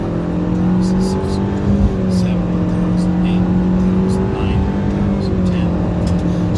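A small four-cylinder engine in a 2019 Nissan Rogue SL Platinum AWD hums steadily and close as it accelerates, its pitch holding with slight rises as it pulls, a continuous drone with faint clicks above.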